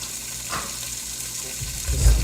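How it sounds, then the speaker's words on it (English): Lamb meat searing in a hot pot for stew, a low, steady sizzle close by with a faint scrape, swelling slightly louder toward the end. "you do want the heat quite high when the meat gets in there. Just be a nice sear."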